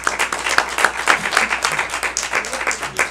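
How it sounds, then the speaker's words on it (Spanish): Brief burst of congregational clapping during a Catholic Mass for Our Lady of Altagracia, fairly close and uneven, with individual claps standing out in a short rhythmic flurry. "Un aplauso a la Virgen María"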